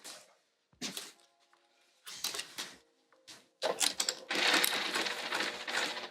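A sewing machine sews down the lining piece of a Fogerty bag in short, start-stop bursts with quiet pauses between them, ending in a longer run. The machine is close but soft.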